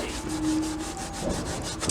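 Microfiber cloth rubbing over a BMW exhaust tip, giving close, steady back-and-forth swishing strokes in a regular rhythm with no speech.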